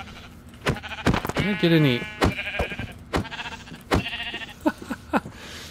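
Repeated sheep bleats in Minecraft, loud and close, mixed with sharp hitting thuds and a voice talking over the top.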